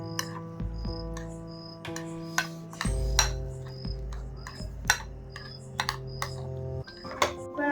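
Food being stirred with added salt in a bowl while cooking dinner, heard as a run of light, quick clicking taps of a utensil against the bowl with a steady low hum underneath, no talking.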